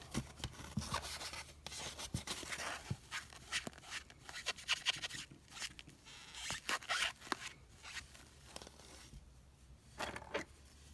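An eraser rubs a pencil mark off a doll in short, close scrubbing strokes, faint and intermittent, with brief pauses between bursts.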